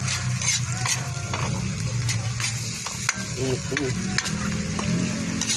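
Bagoong guisado (sautéed shrimp paste) stirred in a pan, a steady sizzle with soft scraping and clinks of the spoon against the pan throughout, while a person talks over the cooking.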